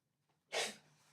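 A single sharp sneeze, brief and fairly close, preceded by a faint intake of breath in an otherwise quiet room.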